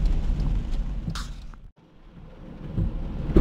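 Rain falling outdoors near dumpsters, a steady hiss of rainfall with a deep rumble underneath, briefly dropping out midway before returning.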